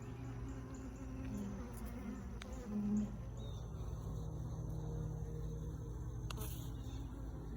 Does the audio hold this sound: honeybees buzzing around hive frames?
yes